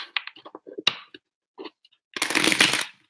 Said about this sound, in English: So I'll just keep shuffling.